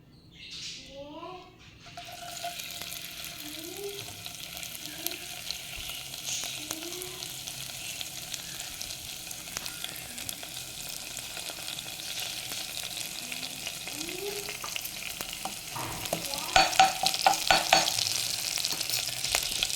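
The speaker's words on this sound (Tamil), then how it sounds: "இப்போ நம்ம தாளிச்சிடலாம்." Steady frying sizzle from spices tempering in hot oil, crackling continuously and growing louder near the end, with faint bird chirps in the background.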